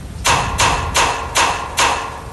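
Five evenly spaced heavy knocks on a gate, loud and close, each a dull thud at a steady rhythm with no voices.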